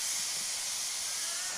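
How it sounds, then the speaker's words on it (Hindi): A pressure cooker lets off steam through its whistle, a loud, steady hiss that holds without a break for the whole moment. "ये लास्ट सीटी थी, अभी उतार दूँगा कुकर को।"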